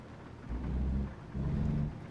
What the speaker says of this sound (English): Is it raining still? Hell yeah, it is.